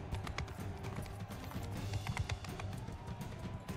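A knight's horse gallops in the game Bannerlord, a quick, continuous patter of hoofbeats under a busy, fairly quiet battle din.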